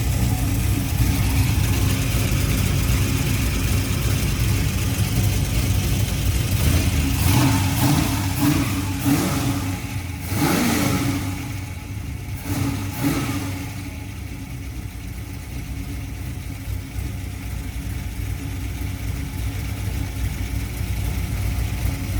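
An engine fitted with Frankenstein M115 heads runs on a dyno, a loud, steady roar that swells and dips slightly midway before settling back to a sustained drone.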